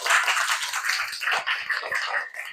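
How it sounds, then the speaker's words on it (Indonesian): Classroom applause from students after a lesson prompt, a dense patter of many hands clapping steadily and fairly close, without voices over it. "Tepuk tangan untuk kita semuanya."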